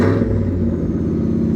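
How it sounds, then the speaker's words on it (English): Cammed Ford F150 engine given a quick bump of the gas, a loud close rumble that swells briefly and then settles into a steady, choppy idle. "Now I'm gonna bump the gas."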